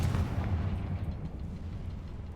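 A Confringo fire spell in Hogwarts Legacy erupts as a single heavy blast, a booming burst up front that rolls and fades over a couple of seconds, with no talk over it.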